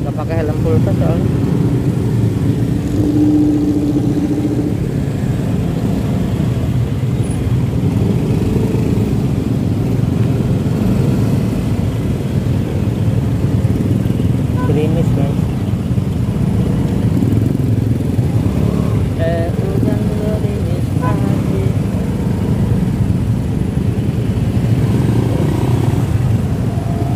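Idling and slowly moving motorcycles and cars in a traffic jam at a red light, a steady close engine rumble throughout with a person talking over it.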